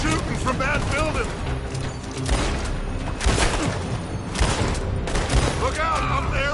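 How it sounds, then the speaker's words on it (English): Gunfire pours from a building in the Red Dead Redemption 2 video game: repeated sharp shots and bursts arrive in uneven clusters, loud and close, over a busy game soundscape and sustained background noise. "They're shooting from that building."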